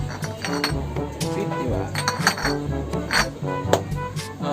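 Glass bottles clink and knock together repeatedly as they are counted and packed into sacks, a steady run of close, bright impacts with some faint talk in the background.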